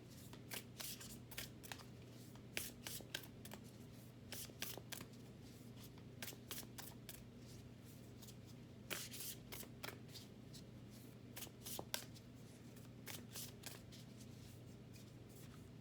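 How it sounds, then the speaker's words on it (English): Large oracle cards are shuffled by hand over and over, giving soft, papery riffling bursts in an uneven rhythm. A low, steady hum sits underneath, and no one speaks. "I'm just gonna shuffle them a little more, get some more energy into them."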